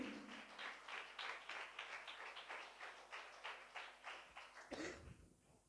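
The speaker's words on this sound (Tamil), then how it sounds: "நல்ல கைத்தட்டி ஆண்டவருக்கு நன்றி" A Tamil church congregation claps in thanks to God, a quiet, rhythmic run of hand claps in a steady beat that stops abruptly near the end.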